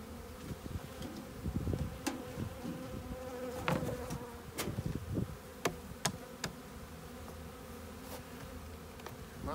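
Honeybees hum steadily and close at a hive with wooden frames under a hardboard cover while being fed protein dough, with occasional light knocks and clicks over the dense buzz and no talking.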